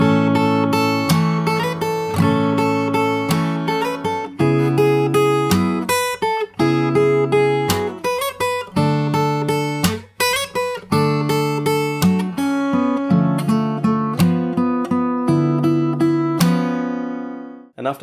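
The complete solo on fingerstyle acoustic guitar, played up close: a continuous flow of plucked melody over bass notes with frequent percussive slaps keeping a lilting rhythm, ending on a sustained chord, no speech.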